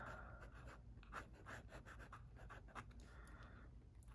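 Sailor Pro Gear Slim fountain pen with a medium-fine nib writing on paper: very faint, close scratchy strokes in an uneven rhythm, alone without talk.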